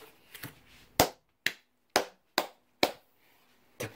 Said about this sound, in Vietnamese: Tự vỗ tay luôn.